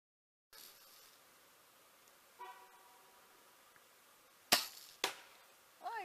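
BB guns fired outdoors in dry woods near the Sequoias: two sharp, loud cracks in quick succession about half a second apart, followed by a third shot at the very end, over quiet outdoor ambience with a brief tonal chirp earlier.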